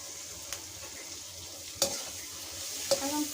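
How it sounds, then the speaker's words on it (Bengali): Chicken fried rice being turned over in a pan: a few sharp utensil scrapes spaced a second or so apart over a faint, low sizzle, close and quiet, without speech. "এখন আমি সব কিছু একসাথে নেড়ে নিচ্ছি"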